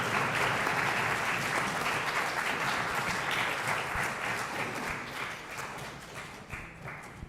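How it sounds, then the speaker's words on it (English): A crowd at a youth parliament event applauding steadily, dense clapping that stays loud throughout and eases off slightly toward the end. "Let's give them a big round of applause."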